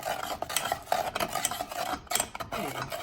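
Honey mustard glaze for a spiral ham being stirred in a pot, with close, steady scraping and swishing strokes that repeat continuously, no voices.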